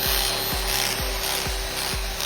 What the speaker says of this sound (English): ideal for those looking for a fast and efficient way to remove grout without damaging the surrounding